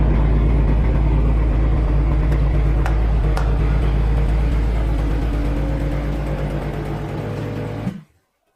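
A Dodge Charger Daytona's 5.7 V8 Hemi rumbles loudly while driving, a deep, steady low engine drone with road noise that eases slightly before cutting off abruptly near the end.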